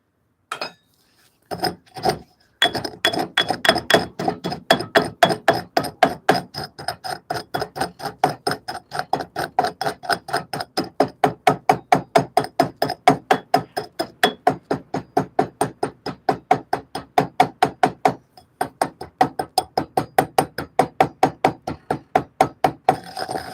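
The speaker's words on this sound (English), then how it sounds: "Seems like as I hit it and pack it down like this, it kind of like packs down like a sand." Repeated hammering as anti-decarb heat-treating slurry is struck and packed down, a long run of sharp, evenly spaced metallic knocks close by with only a few brief pauses.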